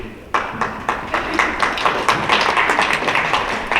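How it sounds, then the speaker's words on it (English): A meeting audience breaks into applause, with scattered claps building quickly into steady, fairly loud clapping from a small crowd indoors. "You don't have to do the obligatory clap"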